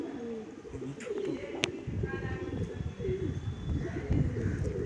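Madrasi pigeons coo in low, rolling phrases at close range over a busy background murmur and occasional clicks, with a brief higher chirp partway through.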